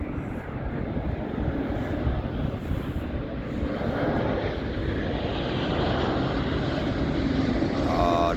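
A British Airways airliner landing at London City Airport on a stormy evening, a steady, loud jet roar mixed with wind buffeting the microphone that builds slightly toward the end, with no voices.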